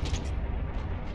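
A tank shell strikes the player's tank in the World War II game Heroes & Generals, a level 2 Panzer III J/1: a loud, deep booming rumble that fills the whole moment without pause.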